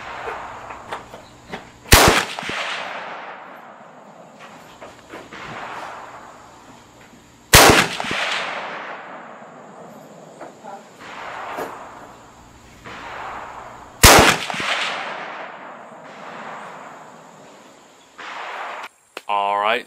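Three .30-06 rifle shots fired at a 200-yard target, each a loud sharp crack with a long rolling echo, spaced several seconds apart, with faint handling noise between them.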